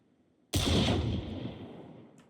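A single loud gunshot from the Outlaw video game fired through a target at a bot, with a sharp onset and a long decaying echo tail, no talk.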